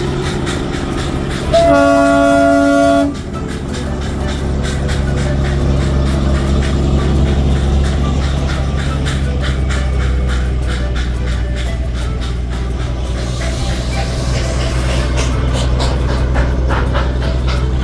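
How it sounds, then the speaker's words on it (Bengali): The Darjeeling Himalayan toy train passing at Batasia Loop opens with a loud, sustained horn blast, followed by a continuous close rumble of the train rolling past with a faint rhythmic clatter of wheels. "তার পিছন পেছন রেগুলার ট্রেনও আসছে"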